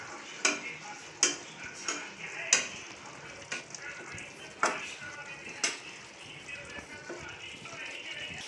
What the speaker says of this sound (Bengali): অল্প একটু ঘি দিব। হালকা একটু নাড়াচাড়া করে নেব।